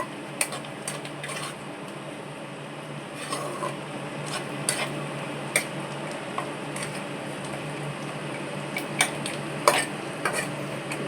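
Raw peanuts and green chillies go into onions already frying for a fish chop filling, with a constant sizzle under clinks and scrapes of a spoon against the pan and a few sharper knocks.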